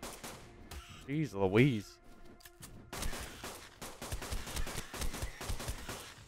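Fabricated pistol firing in Ark: Survival Evolved, a dense run of rapid shots filling the second half after a brief spoken exclamation.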